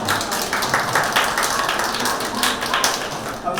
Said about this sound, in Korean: 정리하는 동안 박수 한번 부탁드리겠습니다